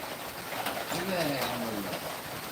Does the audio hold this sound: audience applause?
no